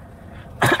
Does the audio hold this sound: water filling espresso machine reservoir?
no